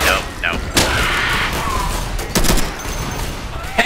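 Gunfire in Left 4 Dead, a dense barrage of sharp shots and thuds during a zombie fight, loud and close, with brief bursts over a continuous din.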